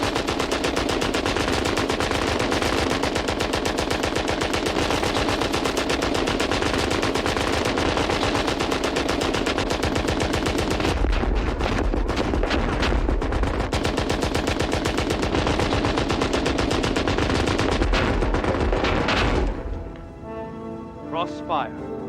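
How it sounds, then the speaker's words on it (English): A WWI German machine gun fires across no man's land in a 1985 war drama, a relentless rapid rattle of shots at full loudness for nearly twenty seconds before cutting off, leaving quieter sounds and a voice speaking. "As long as the machine gun's intact, neither side can cross no man's land."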